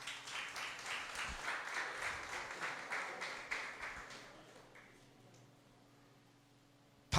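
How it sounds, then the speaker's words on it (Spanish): Applause from a church congregation during a sermon, a steady wash of clapping that fades out after about five seconds, leaving a quiet room. "Un aplauso para el hermano."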